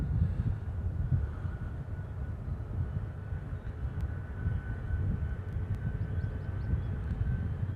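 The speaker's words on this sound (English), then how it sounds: "This is Hawaiian 8917 heading off to Tokyo." A Hawaiian Airlines Airbus A330 departs Honolulu bound for Tokyo, heard as a steady, distant broadband jet roar that holds evenly throughout with no voices.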